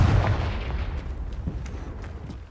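A Confringo blasting spell bursts in Hogwarts Legacy with a loud booming explosion at the start, then trails off into a rumbling decay with a few softer pops.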